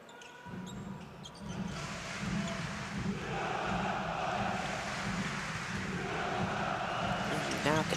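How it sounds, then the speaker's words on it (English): Arena crowd at a Montenegro versus Lithuania FIBA World Cup qualifier swelling into a steady, loud roar that builds across the clip, with an announcer talking over it and a brief sharp rise at the very end. "Now I can hear the crowd turning up their volume for Montenegro"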